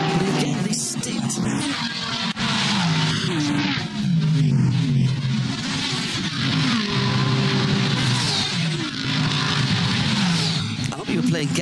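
Race cars in the Bathurst 12 Hour endurance race roar past a camera at the top of the mountain, engines loud and continuous with rising and falling revs, with people talking over them.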